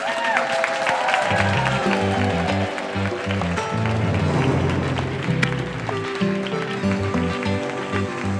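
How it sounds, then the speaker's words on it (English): A studio audience applauds at the start of a radio show, steady dense clapping throughout with music playing underneath. "We want to go ahead and get the applause going here and get ready."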